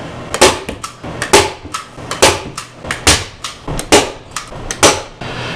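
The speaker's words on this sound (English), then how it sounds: "I'll go back with a hammer and just beat them in" Hammer blows driving tacks into carpet on a work table, a steady series of about eleven sharp, loud, close impacts spaced roughly half a second apart.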